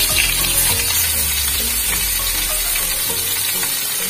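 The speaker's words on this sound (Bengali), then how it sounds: "এই তেলের মধ্যে আমি এখন ফুলকপি আর আলুগুলোকে ভেজে তুলে নেব।" Cauliflower and potato pieces fry in hot oil in a pan used just before for koi fish, giving a continuous close hiss and sizzle with no talking.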